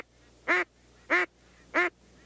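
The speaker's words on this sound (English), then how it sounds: "And if you can learn first the quack" Three short, evenly spaced quacks blown on a duck call, each a bright, buzzy burst with clear harmonics, sounding loud and close against a quiet background hum.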